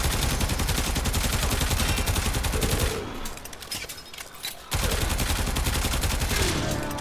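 The Zenith weapon fires in Warframe as a dense, rapid, loud automatic burst, pauses for about two seconds, then resumes the same continuous stream of shots, with no talking.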